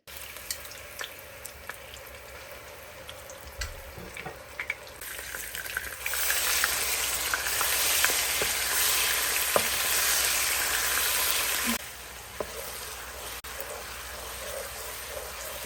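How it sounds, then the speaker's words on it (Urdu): Ginger garlic paste fries in hot oil in a karahi, giving a steady close sizzle that swells louder and denser midway, then eases back to a lighter crackle. "گرم کرنے کے بعد اس میں ہم ڈالیں گے ادرک لہسن کا پیسٹ 3 بڑے کھانے کے چمچ"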